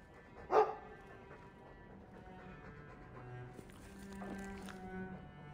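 A Mabari war dog in Dragon Age II gives one short, sharp bark early on, followed by quieter game ambience with faint tonal sounds.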